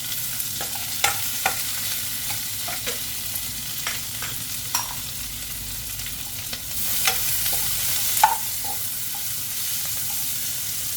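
Carrots and tomatoes stir-fried for shrimp fried rice: a constant close sizzle with scattered scraping stirs of the spatula throughout, no talking.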